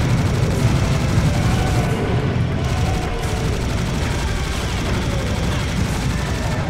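Heavy, continuous booming cannon fire in the video game Serious Sam HD: The Second Encounter, rapid overlapping blasts forming a dense, loud wall of noise throughout.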